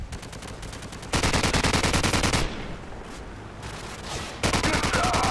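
Sustained machine gun fire in Call of Duty 4, with dense rapid bursts that grow louder and heavier partway through, briefly thin out, then surge again at full intensity.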